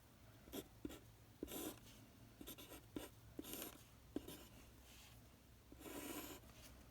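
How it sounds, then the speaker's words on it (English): A pencil sketches on paper in short, faint scratching strokes and longer rubbing passes, close and quiet, with brief pauses between marks. "So let's make another sketch."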